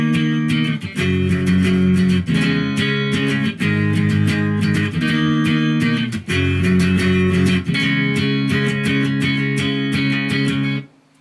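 Heavily distorted electric guitar plays power chords in the chorus of a song, loud and continuous with brief breaks between phrases, then cuts off at the end.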